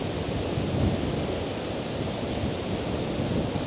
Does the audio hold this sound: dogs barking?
no